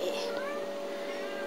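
A kitten gives a thin, high meow, close by, with a soft continuous hum underneath.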